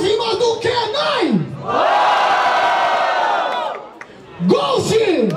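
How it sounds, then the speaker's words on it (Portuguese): Crowd at a Brazilian freestyle rap battle semifinal cheers and roars in a sustained swell, with shouting voices rising before and after the loud, dense mass of cheering. "Barulho para as rimas do Kenai!"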